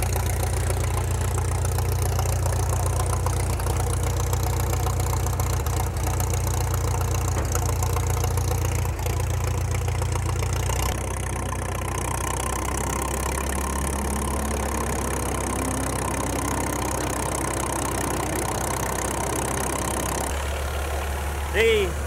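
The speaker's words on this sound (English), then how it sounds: "put the belt pulley in gear, okay, and we'll start the machine" A 1926 McCormick tractor engine runs with its belt pulley engaged, a steady low throbbing drone that shifts in tone partway through and continues at a constant level until the end.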